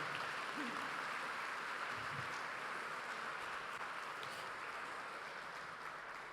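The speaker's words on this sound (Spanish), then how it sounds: "Dale un fuerte aplauso al Rey de Reyes y Señor de Señores" Congregational applause fills a church during a Sunday worship service in Cancún, a steady, dense wash of many hands clapping at low volume, continuous throughout with no pause.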